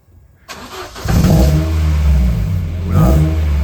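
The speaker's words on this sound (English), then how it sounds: "it is a must to start the car without the muffler" An Opel Astra GSI engine, with its muffler removed, cranks and catches, then roars loudly with a deep, raw, unmuffled rumble that stays close and steady, briefly swelling near the end.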